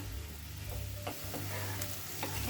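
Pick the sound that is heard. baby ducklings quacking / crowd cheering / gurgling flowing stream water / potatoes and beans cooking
potatoes and beans cooking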